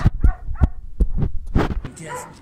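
A dog barks in a few short, loud bursts spaced about half a second apart, close by, with a person's voice mixed in near the end.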